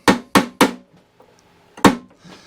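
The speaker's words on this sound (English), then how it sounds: "Let's grab a hammer, ball peen hammer." Ball peen hammer punching a small pin out of a lawnmower, three sharp metallic strikes in quick succession, a pause with faint clinks, then one more loud blow, close and alone.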